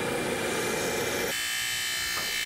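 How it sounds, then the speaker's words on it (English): A wire wheel on a power tool grinds chrome plating off a Triumph Desert Sled motorcycle footpeg part near a weld area, giving a loud, steady abrasive whir that shifts pitch partway through as contact changes. "The wire wheel was used to remove the chrome next to the welding area."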